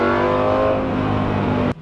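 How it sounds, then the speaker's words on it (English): A supercar's V10 engine with a 6-speed gated manual revs hard and loud for nearly two seconds, a sustained roaring drone that cuts off abruptly at the end. "be quiet and listen to the V10 purr"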